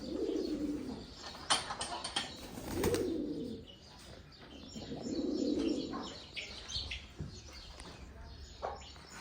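Pigeons coo in low, rolling bursts that come and go, with wings flapping as the birds take off and fly, plus scattered chirps nearby and a faint voice in the background.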